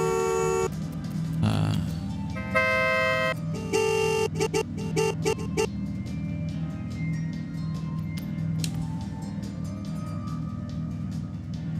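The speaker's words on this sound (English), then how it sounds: "That American horn on them doesn't sound good." American-style car horn in the Forza Horizon 6 racing game, several bursts of honking with short tones and pauses in the opening seconds, followed by clicks and ambient engine hum.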